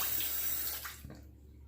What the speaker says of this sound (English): Alright, I'll rinse again.